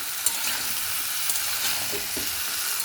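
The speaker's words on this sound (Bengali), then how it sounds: "ঝিঙেটা পুরো দেওয়া হয়ে গেল। এবার একটু নাড়ি।" Ridge gourd and potatoes stirred in a frying pan, with a steady broadband sizzle of hot oil and a few soft scraping strokes, close and continuous without talk.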